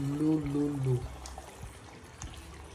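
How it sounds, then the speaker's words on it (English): Water poured into a pot while cooking Jollof rice, a short gurgling pour in the first second that stops abruptly, followed by quiet kitchen clatter and faint ticks at low level. "I'm adding water and I'll reduce the fire to low."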